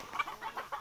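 Sonali chickens on a farm clucking in short repeated bursts, several calls close together over a brief moment, fairly near with no talk.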